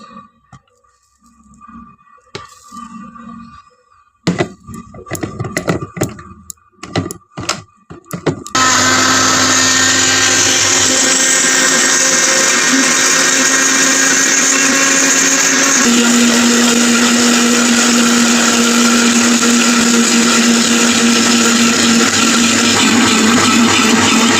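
A mixer grinder starts after some short handling knocks and bursts, then roars loud and continuous while blending a coconut water juice, its pitch shifting slightly partway through and holding to the end.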